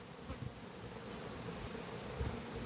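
A dense buzz of many honey bees flying around their hive, steady and near, with brief louder passes of single bees and no voices.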